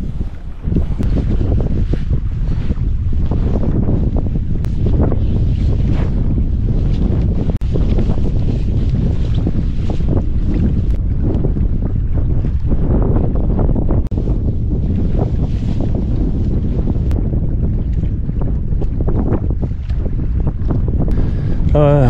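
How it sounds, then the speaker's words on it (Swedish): Strong wind roars steadily across a mountain lake, a loud continuous rumble that buffets the microphone with no let-up for the whole stretch. "måste man hitta lä när det blåser som det gör nu"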